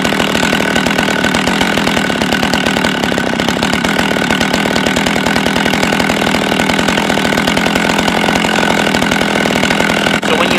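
A Jonsered 520sp chainsaw engine runs loud and close during a low-jet carburetor adjustment, revving steadily with a rapid buzzing rattle throughout, no voices.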